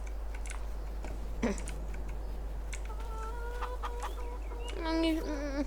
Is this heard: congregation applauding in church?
no